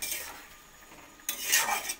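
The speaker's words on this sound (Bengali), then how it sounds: "সমস্ত কাসুরি মেথিটা দিয়ে আমি আবারও আলুর সঙ্গে মিশিয়ে নেব।" Potatoes being stirred and mixed with dried kasuri methi in a pan, soft scraping and utensil clinks against the metal, a quiet stretch then a louder burst of scraping near the end.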